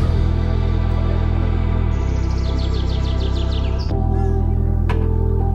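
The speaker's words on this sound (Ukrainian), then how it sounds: "Пташки співають, така прям природа-природа." Birds singing in a pine forest on the grounds of a forest sanatorium near the Shatsk Lakes, with bright chirps and trills rising and falling over a steady low hum, no voices.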